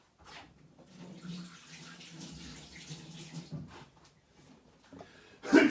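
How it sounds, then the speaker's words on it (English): Tap water runs steadily into a sink as hands are washed, a soft continuous splash of moderate loudness ending in a brief louder gush, with no talking. "Oh, I need to wash my hands quickly."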